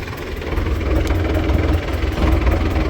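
The engine of an MTZ 80 tractor runs steadily in a soy field, a low, rough diesel rumble with a slight knocking pulse, continuous and fairly close, with no talk over it.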